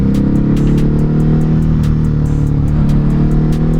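Car engine revving hard near a Ducati Hypermotard 950 motorcycle, a loud close droning roar with strong steady harmonics and a faint repeating ticking above it.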